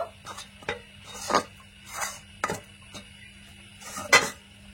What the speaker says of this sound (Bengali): ময়দা দিয়ে খুব ভালো করে মিশিয়ে নিয়েছি।